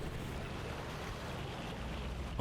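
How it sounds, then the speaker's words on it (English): Wind blows in a steady, hollow, broadband rush over an outdoor dinosaur park in Jurassic World Evolution 2, ending with a brief louder low thump. "Oh, it's getting real windy,"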